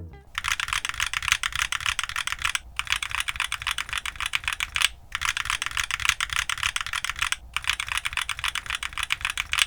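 Rapid, steady clacking of keys along the middle row of a mechanical keyboard fitted with FLCMMK Ice Mint linear switches, close and crisp, in four bursts separated by brief pauses.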